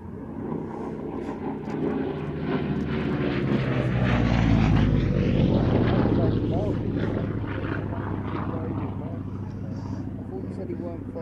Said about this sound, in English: high up to your left, the Yak 11